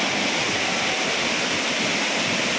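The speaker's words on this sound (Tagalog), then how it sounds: "Ayan na guys yung falls na pinagmamalaki sa" Talon Falls in Mindoro, Philippines pours with a dense, steady roar of falling water, loud and close, with no other sound over it.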